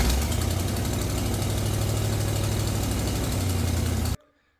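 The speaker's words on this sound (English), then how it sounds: "this 460 was seized. Got it unseized, got it running. Don't mind the smoke." A seized 460 V8 in a 1977 Ford F-150, freed up and now running with heavy smoke and blow-by, idles loud and steady with a rough, knocking low rumble, then cuts off abruptly near the end.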